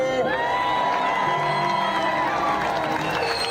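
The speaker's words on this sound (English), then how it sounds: "Keep that applause going." A large crowd at a bouldering World Cup final in Vail cheers and applauds continuously, with whoops and shouts rising over steady clapping from a distance.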